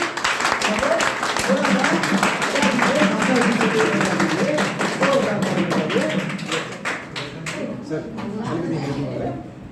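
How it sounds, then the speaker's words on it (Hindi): A crowd claps and taps together in a sustained burst of applause, voices mixed in, fading toward the end. "तो एक बार जोरदार ताली हो सकता है।"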